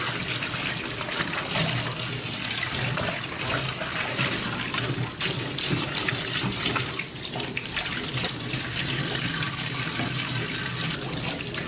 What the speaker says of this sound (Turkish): şimdi sular çekilsin